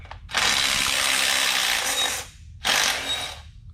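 A power tool such as an impact or ratchet gun buzzes loud and close for about two seconds, pauses, then runs again briefly, backing out thermostat-housing bolts on a Mazda Miata ND Skyactiv engine during a teardown.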